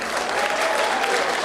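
Applause from a room full of people, a brief burst of dense, steady clapping heard alone.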